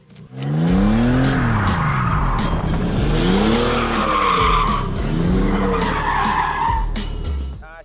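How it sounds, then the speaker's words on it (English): A car drifting in donuts on a practice area, loud continuous tire squeal rising and falling in repeated sweeping arcs over a roaring engine, close and sustained, with no talk. "Whoever's getting started practicing donuts in a specially designated area, make sure to do them in both directions"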